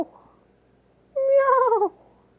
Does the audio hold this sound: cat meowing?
yes